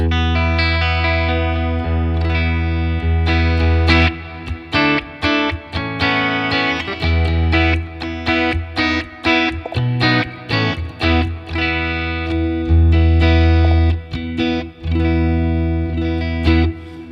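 An electric guitar played loud through a small amp, strummed chords and choppy riffs with a mostly clean tone carrying slight grit.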